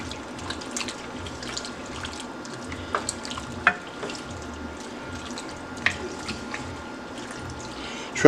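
Cream cheese is stirred into macaroni and cheese in a pot, making soft, wet squelching with occasional light clinks of a utensil. It is faint and close throughout.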